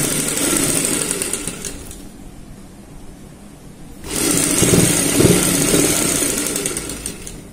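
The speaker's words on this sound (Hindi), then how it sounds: "इस तरीके रखेंगे और एक पैर चौड़ाई वाला पिन टैक्स डालेंगे।" A sewing machine runs steadily as it stitches pin tucks on a cotton neckline, a close, continuous mechanical whir that stops for a couple of seconds midway and then starts again, with no talking.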